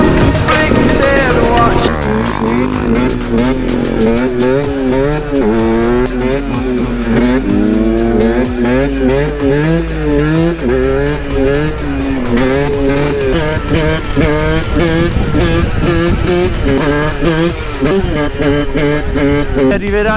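A motorcycle engine revs hard and holds high throttle through a long wheelie, its pitch rising and falling in waves, loud and close, with wind rush throughout.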